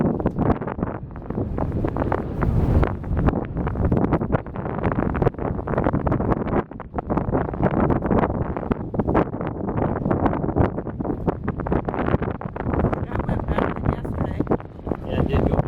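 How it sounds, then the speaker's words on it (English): Wind gusts around boats in a marina, beside a large Hatteras yacht. It makes a loud, constant rumbling roar with buffeting surges on the microphone that never let up. "You can see the wind coming around his stern."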